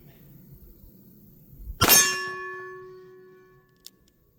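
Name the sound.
10mm Colt Peacekeeper shots hitting steel targets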